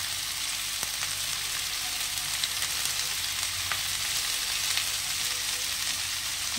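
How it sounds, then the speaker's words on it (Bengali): New potatoes and flat beans fry in a pan with a steady, close hiss and sizzle that continues without break, broken only by faint crackles. "একদম ভাজা ভাজা হবে, ঢেকে ঢেকে ভাজবো অনেক সময় ধরে"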